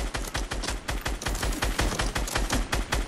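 Rapid automatic gunfire in the Fortnite video game, a steady, dense burst of shots continuing throughout at moderate volume, with no voices.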